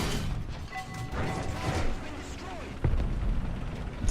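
A tank cannon in a video game fires an APHE shell, a heavy booming blast with rumbling low end and a mechanical clank, followed by a second sharp impact near the end.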